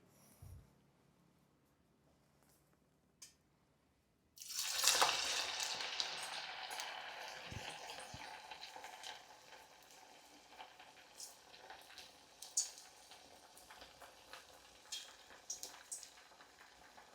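Corn vadas dropped one at a time into hot oil, with a sudden loud sizzle that bursts in and then settles into steady crackling frying, close and continuous, with a few faint knocks before it.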